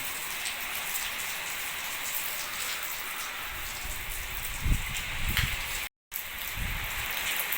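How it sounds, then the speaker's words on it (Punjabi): Steady rain falls outdoors at a farm work site as a dense, even hiss, with a few heavier thuds and a brief dropout near the end. "ਮੀਂਹ ਆ ਗਿਆ ਉਧਰੋਂ"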